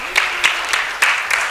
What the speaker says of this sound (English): if you guys maybe give a round of applause for Val